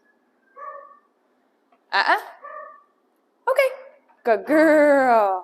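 Dogs bark and whimper in short yelping bursts from a kennel area, ending in a longer wailing howl, while someone speaks briefly between them.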